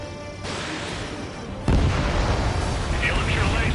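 A missile hits in Ace Combat 7 with a sudden heavy boom, and a deep rumbling roar follows. Radio chatter and game ambience sit beneath it, and faint voices come in near the end.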